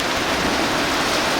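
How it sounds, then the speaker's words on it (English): Steady rain pours down at a travel accommodation in hot Australian snake country, a dense continuous hiss filling the clip without any talk. "we're getting some rain"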